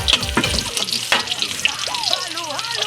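Chopped onion sizzling and frying in a pan for a ginisang mushroom sauté, with a steady crackle, a few stirring knocks near the start and a voice speaking faintly in the background.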